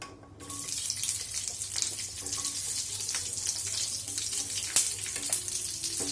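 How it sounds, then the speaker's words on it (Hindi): Onions dropped into hot oil in a kadhai give a broad, steady hissing sizzle, close and fairly loud, with a few clatters and no speech. "ऑयल गरम हो गया है, इसमें प्याज डालते हैं।"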